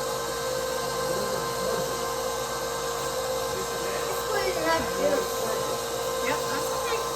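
A KitchenAid stand mixer running a strainer attachment that turns apples into applesauce, giving a steady, loud motor whir and hiss throughout, with faint voices talking over the drone.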